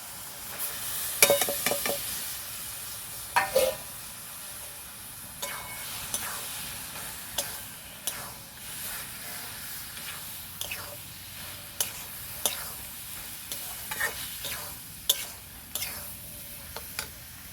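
Spiced marinated meat for mangsher ghugni frying in a pan, with a soft continuous sizzle broken by sharp, irregular spoon scrapes and clicks as it is stirred, fairly quiet throughout.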